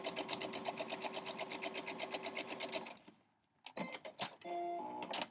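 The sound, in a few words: sewing machine sewing a quarter-inch seam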